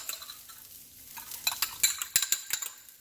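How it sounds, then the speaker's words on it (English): Egg and cooking oil sizzling in a pan of shrimp fried rice, a soft crackling hiss with a quick run of close metallic scrapes and taps from stirring. "I'm going to add a little bit more cooking oil because I am going to add my 1 large egg"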